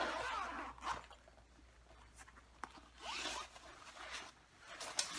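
Zipper on a tenor ukulele gig bag being pulled open, a few quiet close ripping strokes in short bursts.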